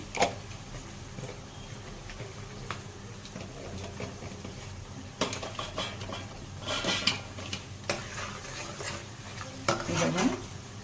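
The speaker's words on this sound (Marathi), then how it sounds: "छान भाजू द्यायचं तेलामध्ये, छान भाजला गेलं पाहिजे." Coriander-cumin powder roasting in oil with green chickpeas in a pan, a steady sizzle broken by frequent scraping and clinking of a spoon against the metal, close and fairly loud.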